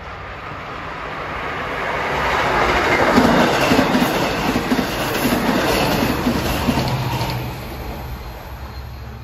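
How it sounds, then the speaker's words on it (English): LIRR train 555 from Oyster Bay to Jamaica passes through Elmont station during the evening rush hour, its rumble swelling to a steady clickety-clack of wheels on rails before easing off. "Here comes 555 from Oyster Bay to Jamaica."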